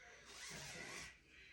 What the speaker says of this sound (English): I'm gonna unzip this.